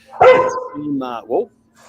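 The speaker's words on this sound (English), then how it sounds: "The dog is barking." A dog barks at a rivalry match broadcast, one sharp bark followed by two shorter yips, close and loud, with crowd noise around it.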